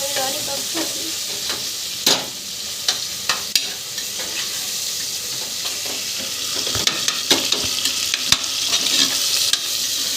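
Tomatoes soften in a hot pan for biryani, frying with a steady sizzle while a utensil stirs and scrapes in irregular strokes, close and fairly loud with no talking.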